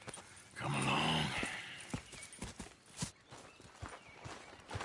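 Horse hooves clip-clopping in a video game, with a steady run of soft, close hoofbeats over a brief swell of background game sound.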